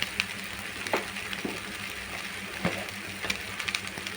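A pan of fish curry sizzles and fries steadily at a moderate level, a continuous crackling hiss with occasional stirring clinks and spatters, no voice over it.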